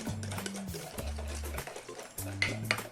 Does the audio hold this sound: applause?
no